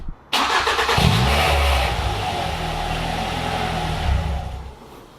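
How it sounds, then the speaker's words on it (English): Ford Fiesta ST MK6 engine cranking and catching, then settling into a steady, fairly loud idle with a slight rev bump near the end, recorded close by with no talking. "I'm going to go and start the car."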